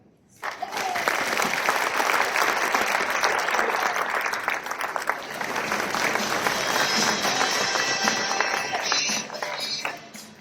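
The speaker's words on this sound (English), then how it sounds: "a round of applause to all of you" An audience at a strategic plan update event breaks into applause after a brief quiet start, a dense sustained clapping that holds steady for about ten seconds before tapering at the end.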